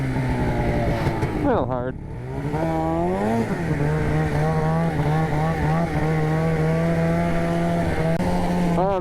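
A snowmobile engine revs hard and close for a wheelie attempt, its strained whine dipping and then climbing back to a loud sustained drone, with a voice briefly speaking.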